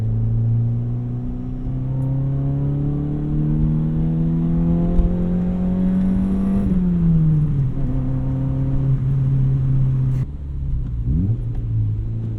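A 1998 Honda Civic CX non-VTEC engine revs steadily from inside the cabin, pitch climbing and then dropping at each gear shift, with a loud continuous drone and no talk over it.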